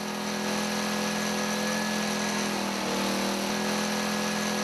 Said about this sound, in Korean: 육중한 모터 소리를 내며 양수기가 돌아가는 사이